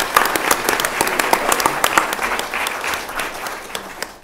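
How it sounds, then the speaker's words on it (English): A round of applause fills a city council meeting chamber, many hands clapping in a dense, lively burst that carries on steadily for several seconds. "Let's give them a round of applause for everything they did."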